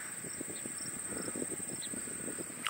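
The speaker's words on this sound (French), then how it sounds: "Il y a les grillons." Crickets chirp steadily in the background under a constant high-pitched buzz, with a few faint bird calls in an open outdoor setting by the sea near Rimouski, Quebec.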